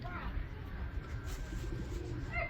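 Birds coo at a safari park in soft, low, repeated calls close by, heard under a person speaking.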